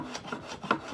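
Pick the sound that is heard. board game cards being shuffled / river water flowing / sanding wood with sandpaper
sanding wood with sandpaper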